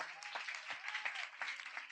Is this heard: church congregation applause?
yes